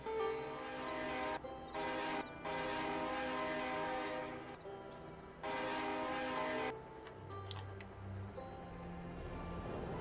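A long, loud vehicle horn in Farming Simulator 22 blares in sustained blasts with short gaps, sounding like a train horn, followed by quieter low mechanical rumbling.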